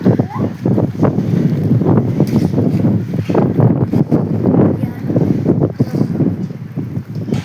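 Heavy wind gusts rumble and buffet the microphone continuously, while a person talks over the noise.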